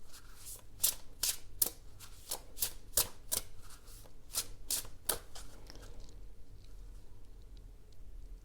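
A deck of angel cards is shuffled in a string of crisp riffling bursts, close and fairly quiet, the rhythmic snaps stopping near the end and leaving near silence.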